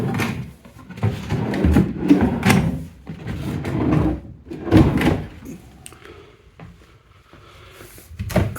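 A hotel room fridge door being opened and handled in Benidorm, with bumpy knocks, a muffled thud and rattling contents over several seconds, fairly close, with no talk.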